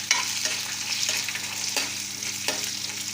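Garlic and ginger frying in oil alongside dried chillies, a loud dense sizzle with rhythmic stirring scrapes every second or so, close and continuous with no voices.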